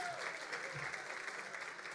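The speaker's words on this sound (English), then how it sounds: "so I think they deserve a round of applause now for Adam." At an awards dinner, the Gotham Greats 2015 gala, the audience gives a round of applause, heard as a soft, even wash of many hands clapping that holds steady throughout at a low, distant level.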